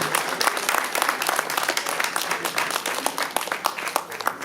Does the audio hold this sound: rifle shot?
no